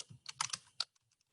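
Brief burst of typing on a computer keyboard while entering a spreadsheet label, several quick close clicks over about a second with a few fainter taps trailing off, no talk.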